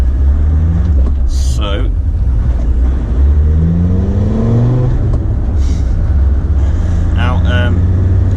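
A Land Rover Td5 diesel fitted with FloFlex bushes accelerates on an open road, its engine drone rising in pitch through the gears under steady road and wind noise while someone talks over it.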